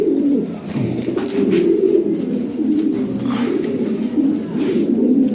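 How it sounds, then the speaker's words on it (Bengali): Pigeons coo continuously, close and loud, as they are handed over during a delivery. The soft, throaty cooing overlaps without pause. "এই যে কবুতর ডেলিভারি দিয়ে দিতেছি, দেখেন"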